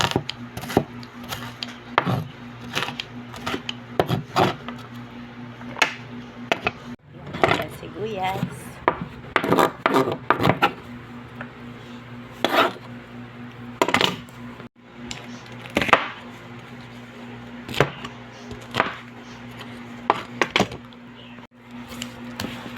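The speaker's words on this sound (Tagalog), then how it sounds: "Nabalatan na natin ang bawang. Iiwa ko ngayon." Peeled garlic sliced with a knife on a board, a long run of crisp, irregular tapping chops, close and fairly loud, with short pauses and some scraping between bursts; no talk is heard.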